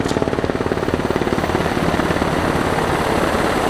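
A military helicopter hovers close at a tank show, its rotor beating in a fast, loud, steady chop over a thick engine roar.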